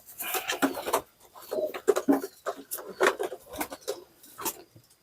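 Young pigeons (piyikan) cooing while being handled, repeated soft low coos in uneven bursts, close by, with someone talking intermittently and some handling noise.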